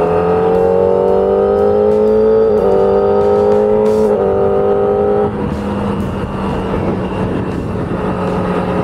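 An Aprilia RS 660 motorcycle with a 270-degree crossplane engine is heard while riding. The loud, close engine note climbs steadily through the gears, then drops to a rougher, steadier drone under wind rush.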